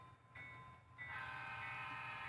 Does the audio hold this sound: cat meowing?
no